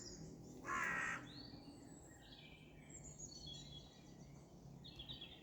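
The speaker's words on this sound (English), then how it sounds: "Crow." A crow caws once outdoors, a short harsh call at moderate distance over steady ambient noise, with faint other birds chirping afterward.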